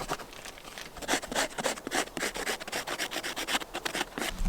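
A small ferro rod scraped by hand to throw sparks onto tinder outdoors, giving a steady run of close, rasping scrapes in quick back-and-forth strokes, with no talking.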